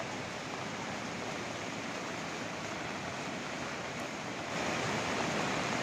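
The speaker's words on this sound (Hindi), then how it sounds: "रुद्रप्रयाग मंदाकिनी नदी और उसका तेज बहाव देखिए आप" The swollen Mandakini river at Rudraprayag rushes in flood after heavy rain, giving a steady, even roar of water that continues without a break.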